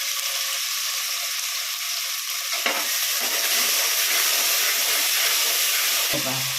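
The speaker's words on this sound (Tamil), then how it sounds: "வெங்காயமும் போட்டு வதங்குறோம் இந்த பச்சை மிளகா கட் வச்சுக்கிறோம் அப்படியே போட்டுறோம்" Onions and green chillies sautéing in a pan for mutton biryani, a steady close sizzle and hiss with occasional stirring scrapes, under someone speaking.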